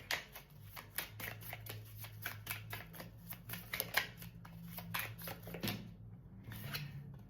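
Tarot cards are handled and pulled from a deck in a steady series of soft, papery flicks and snaps, fairly close and quiet, with a few rustling pauses toward the end.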